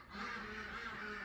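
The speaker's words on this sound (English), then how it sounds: "listen to the ducks quack." Ducks quack in a steady low chorus against a continuous background hiss, with no clear breaks.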